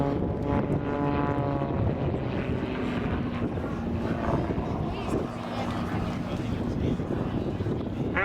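Aircraft performing a torque roll at the Duxford air show, falling back through its smoke while tail sliding: a steady, fairly loud propeller engine drone with shifting pitch under wind noise and a commentator talking throughout.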